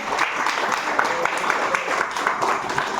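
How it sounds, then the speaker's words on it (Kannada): Crowd applause at a birthday celebration for a man called Gangaraju Anna, a steady wash of many hands clapping throughout, fairly close and continuous with voices mixed in. "ಹಾಗೆ ಅಣ್ಣವ್ರಿಗೆ ಒಂದು ಜೋರಾಗಿ ಚಪ್ಪಾಳೆ ಹೊಡೀರಿ."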